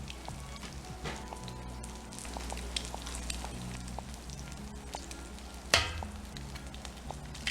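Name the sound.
eggs sizzling on a Blackstone griddle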